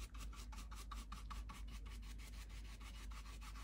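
A brush works dark wax around the edges of a piece of furniture with quick, rhythmic back-and-forth bristle strokes, soft and close over a low steady hum.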